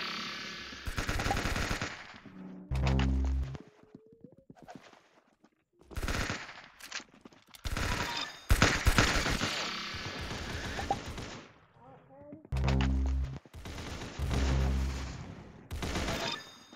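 Gunfire in the Roblox game Arsenal comes in several loud bursts of rapid automatic shots separated by short quiet gaps, with sharp single cracks mixed in and some faint game sounds between volleys.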